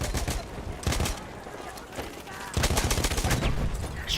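Battlefield 6 gunfire crackles in rapid automatic bursts and single shots, loud and close, with a few brief pauses between volleys and a voice speaking underneath.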